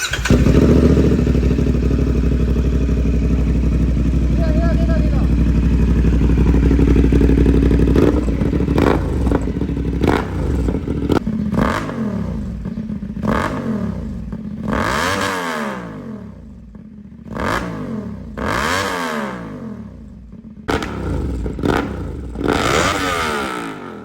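A CF Moto 450SR motorcycle fitted with a carbon full-system exhaust idles loudly, then is revved repeatedly in sharp bursts that climb and fall in pitch, with mechanical clatter between blips.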